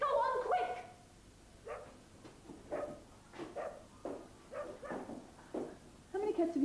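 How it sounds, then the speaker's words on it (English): A dog barks repeatedly in short, evenly spaced bursts at moderate distance during a comedy series scene, with a few louder yelps near the start and end and some faint voices around it. "There's a dog. There's a dog, quick."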